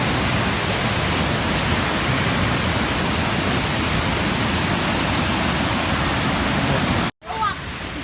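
Water rushing loudly and steadily at the top of Huay Suwat waterfall, a broad continuous roar close by, briefly cut out near the end before resuming.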